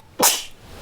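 A single sharp sneeze inside a Kia e-Niro electric car on a road trip, short and close, bursting out of a quiet cabin.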